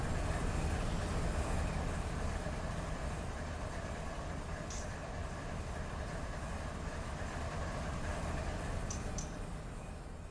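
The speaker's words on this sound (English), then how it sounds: "This is going to make for a cool little picture here. As the train comes around." A Z freight train passing near Hobart Yard, a steady loud rumble of rolling cars and wheels that stays continuous throughout, with faint high squeals now and then.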